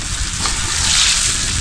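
Food cooking in a pot being stirred, a steady close hiss and bubbling sizzle with soft scraping, constant and fairly loud throughout, no voices.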